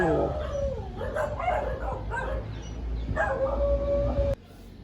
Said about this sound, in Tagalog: Guys, may mga aso.